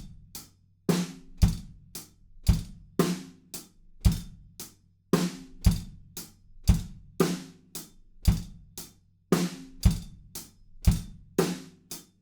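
A steady drum groove with punchy kicks and snare hits, the hi-hat occasionally smeared into short buzz-stroke rolls, played alone at a moderate tempo.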